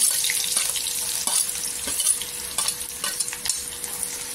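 Crushed garlic hits hot oil with green chillies for methi bhaji, a close bright sizzle with bursts of stirring scrapes in the pan and no voices.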